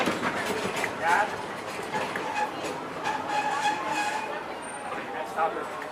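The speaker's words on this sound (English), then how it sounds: "until the train comes to a complete stop" Disneyland Railroad train rolling along the tracks, a steady rumbling ride with faint clicking from the rails, heard from aboard with people talking over it throughout.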